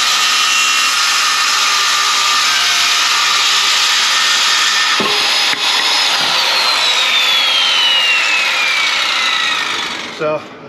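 A power saw cuts wood during a van build, a loud, steady high-pitched whine that runs continuously with a few brief bumps in the cut before dropping off at the end.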